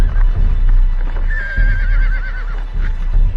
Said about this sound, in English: Both sides left their horses behind.